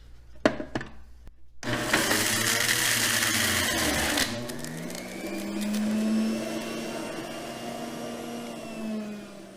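An electric juicer presses carrots and mint leaves, starting with a few short clatters and then a steady motor drone whose pitch climbs and holds. The whine runs loud and close with no talking.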